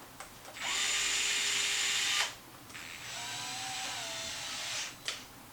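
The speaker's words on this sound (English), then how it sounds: "Take your new screw that came with your kit and put it in there. We can tighten this up with a 2." A power driver runs in two bursts, about a second and a half and then two seconds long, as it tightens a new screw on an aluminum steering knuckle of a Traxxas Maxx RC truck; the high motor whine is close and loud, and no one talks.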